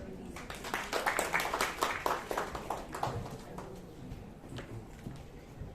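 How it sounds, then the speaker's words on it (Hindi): Audience applause at an award ceremony: a scattered crowd claps in a brief, moderate burst that fades after a few seconds, with speech mixed in. "तालियां मेरे को कम सुनाई दे रही है, जोर से होनी चाहिए ताली"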